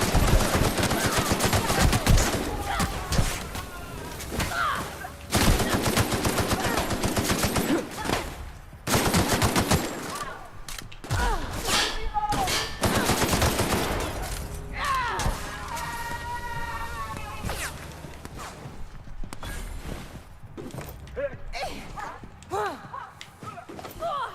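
Enemy gunfire in The Outer Worlds rattles in loud, dense machine-gun bursts and rapid shots, easing into sparser fire and thuds toward the end, with some game sounds mixed in.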